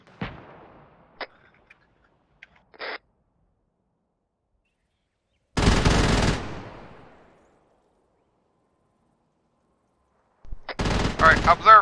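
Gunfire in a nighttime military video game strikes a tank in two separate bursts: a short rattle of rapid shots, then a long pause, then a louder, denser volley, with a few faint clicks before them.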